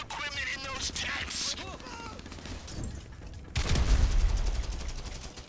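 Gunfire erupts in Grand Theft Auto V as rapid bursts of shots crackle under excited voices and game sounds, followed by a heavier, louder volley near the end.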